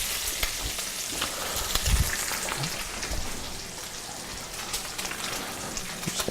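Water and red wine hit a hot pan with browned beef short ribs, giving a steady, bright sizzle and crackle that hisses continuously at close range, with occasional soft clunks of the pan.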